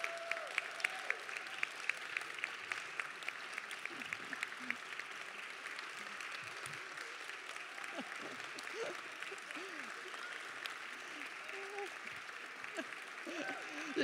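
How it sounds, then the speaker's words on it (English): A church congregation claps and applauds at a Sunday worship service, a soft, even wash of many hands held at moderate distance throughout, with faint voices mixed in. "if you'll join me in clapping and applauding all these wonderful"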